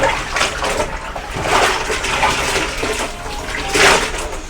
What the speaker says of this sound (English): dunk it a couple of times, pull it out, still holding it, run the water through it